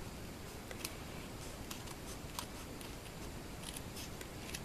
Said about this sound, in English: Now I'll just take my little cutter bee scissors and trim this off.